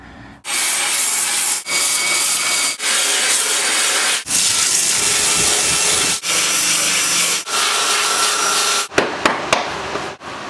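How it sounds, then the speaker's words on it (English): A large grinder bites into the rusty lip of a 1972 Chevrolet truck body, giving loud, harsh abrasive grinding in long sustained runs separated by brief pauses, with a few sharp knocks near the end. "I use the large grinder to kind of grind this lip down so I can kind of peel this back"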